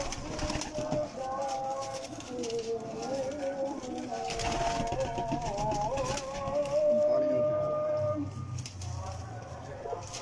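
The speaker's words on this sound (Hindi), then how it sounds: "ये सबसे बड़ा मेन कबूतर है" A large male khaki pigeon of the 45-number breed coos in a loft, repeated soft rolling calls close by, with someone talking over them and other pigeons cooing around.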